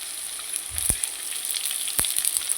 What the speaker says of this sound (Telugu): పచ్చిమిర్చి కొద్దిగా వేగిన తర్వాత నేనైతే కట్ చేసిన ఉల్లిపాయలు అయితే వేసుకున్నాను.